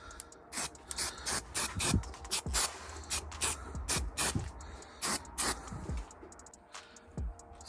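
Etch primer sprayed from an aerosol can over welds on a car body, a series of short and longer hissing bursts with quiet pauses between, close and fairly soft.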